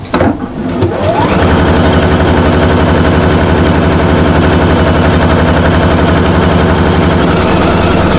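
A sewing machine runs fast and steady, stitching quarter-inch seams on a double-sided Christmas cushion, a loud continuous mechanical whir after a short start, with no talk.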